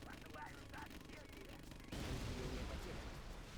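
A loud explosion in the video game Command & Conquer Generals, Rise of the Reds mod, erupts suddenly midway and sustains a dense, roaring rumble after a stretch of busy game noise and battle sounds.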